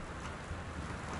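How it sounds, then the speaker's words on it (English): Rain and distant thunder in the video game Gone Home, set in a spooky mansion, form a dense, continuous wash of rainfall with a low rumble underneath, no voices. "It's raining. There's thunder in the background and lightning."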